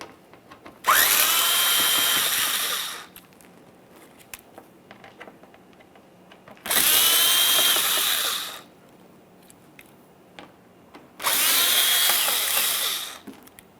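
A power driver backs Phillips head screws out of the bumper cover of a 2009-2014 Nissan Maxima 3.5L V6 in three separate whirring runs of about two seconds each, close and loud with quiet gaps between.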